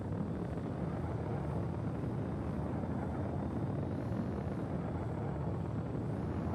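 A steady, dense engine roar of a fast spaceship in flight in a video game, constant and loud with no breaks and no talk.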